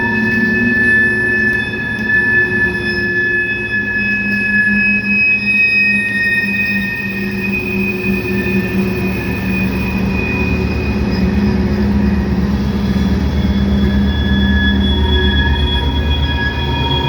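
A train rolls past close by, with continuous loud rumble and high, sustained wheel squeal ringing over the tracks throughout.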